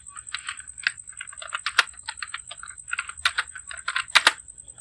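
Fingers typing a name into an online caste certificate application form on a computer keyboard, close and crisp, with irregular bursts of keystrokes and a few sharper clacks, alone without talk.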